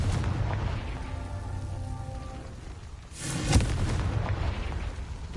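A Confringo spell explodes in the video game Hogwarts Legacy: a whooshing buildup over rain-like ambience gives way to a single booming blast that trails off into rumble.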